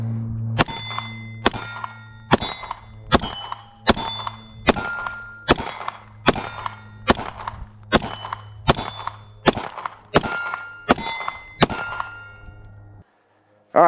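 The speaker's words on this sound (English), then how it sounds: "I'm going to fire a mag through it" A pistol fitted with a Fenix GL06 compact weapon light fires a full magazine: thirteen sharp, loud shots at an even pace of roughly one every 0.8 seconds, each with a metallic ringing tail.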